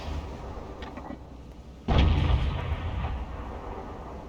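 An IS-2 heavy tank gun fires in a tank battle video game, sending out a single loud, deep boom that rolls on in a long rumbling decay over faint battlefield background noise.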